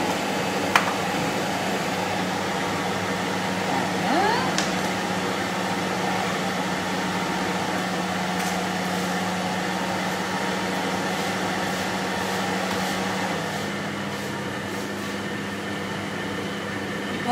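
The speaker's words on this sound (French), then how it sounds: "On ferme le bol, on fait suivant, on lance le robot. Et là, il va donc mixer et mélanger tout ça." A kitchen robot food processor mixing dough ingredients: a steady mechanical whir and hum running unbroken throughout, with faint knocks and a gliding tone shift near the start, and no talk.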